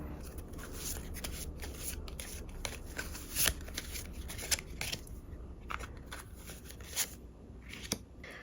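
Tarot cards are shuffled and drawn by hand, a close and continuous papery riffling and sliding with scattered sharper snaps, quiet overall and with no talking.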